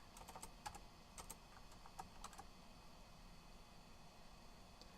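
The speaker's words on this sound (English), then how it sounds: "typing on the wrong keyboard again" Bursts of quick computer keyboard typing, clusters of crisp clicks in the first half-second then tapering into quiet hum, close and moderately soft with no talking.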